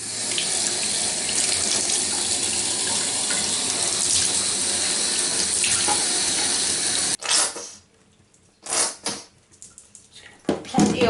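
Tap water runs steadily and loudly into a sink while a retro 1980s toy's hair is shampooed underneath, then the flow stops, leaving sporadic splashes and wet rubbing of the hair.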